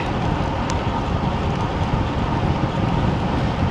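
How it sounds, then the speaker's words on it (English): Steady wind buffets the microphone while running downhill, a constant low roar and rumble, unbroken for a few seconds, with no voices. "it's going downhill and it's windy"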